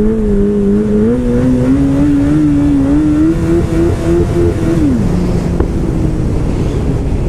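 A car with a newly fitted aftermarket exhaust revs loudly and continuously close by, the engine note climbing and then dropping, with a faint sharp pop near the end; wind noise runs over the microphone throughout.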